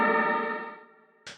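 A reversed, reverb-soaked vocal riser in a deep house track holds as a rich sustained tone that thins out over about a second, then cuts to a short bright burst of noise.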